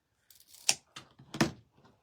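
Scissors snipping through poly burlap ribbon for a wreath, two or three close, crisp cuts with short pauses between them, no talking.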